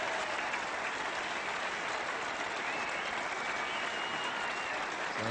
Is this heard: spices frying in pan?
no